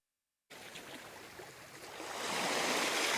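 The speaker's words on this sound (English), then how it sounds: "Very relaxing waves. Smoothing waves." Steady broadband wash of ocean waves and surf that starts abruptly after a short silence and swells louder toward the end, heard alone with no talking.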